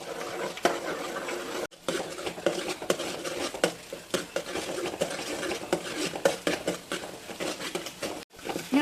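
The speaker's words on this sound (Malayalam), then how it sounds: "ചിക്കി എടുക്കണം" Two eggs being scrambled in a hot pan for chicken fried rice, with repeated scraping and stirring of a utensil against the pan over a light sizzle, no voices.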